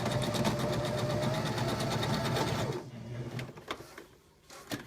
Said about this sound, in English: going to sew forward and back all the way to the edge, and then back and forward.